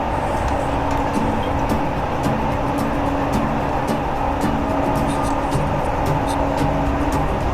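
A driverless LRT Jabodebek light rail train runs along its track with a steady, continuous rumble and hiss and faint high clicks, with no talking.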